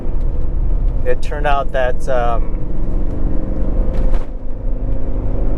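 A 1985 Porsche 928 S Euro engine idles with a steady low rumble, running slightly rich, close to the microphone and continuous throughout while someone talks over it.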